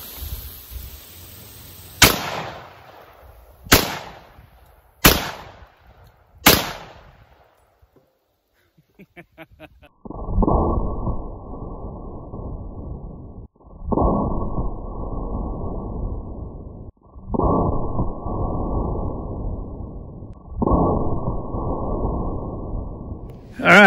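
An M1 Garand rifle in .30-06 fired at Level III+ body armor: four sharp, loud reports a second or so apart, then a silent gap and a stretch of muffled blocky noise bursts.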